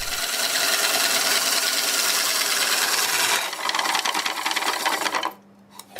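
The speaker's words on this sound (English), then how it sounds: "I just need to maybe mill off about 1/8 of an inch" A milling cutter shaves about an eighth of an inch off an aluminum jig, a loud continuous grinding rasp with a rapid chattering texture that changes pitch midway and cuts off abruptly near the end.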